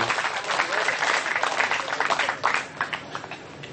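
Audience at a Kenduri Cinta gathering applauds steadily, a dense wash of many hands clapping that swells and thins without pause, with a bit of crowd noise mixed in.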